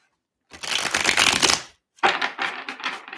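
Shuffling a deck of stiff Tarot of the Divine cards: two close riffling bursts, a longer one then a short pause and a choppier second run, crisp and loud with no talking.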